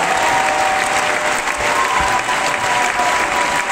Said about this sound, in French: Nous pouvons les applaudir encore.